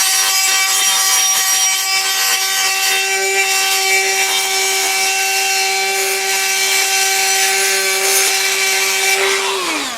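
A handheld grinder works on a Vortec cylinder head for a 400 small-block Chevy, porting and radiusing a corner with a loud, continuous high whine and abrasive grinding that holds steady for the whole stretch before spinning down at the end.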